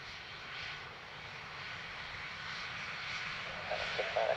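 A fixed-wing airplane landing on runway 28 left at Dublin Airport, a steady engine roar at middle distance that holds for several seconds and swells slightly toward the end.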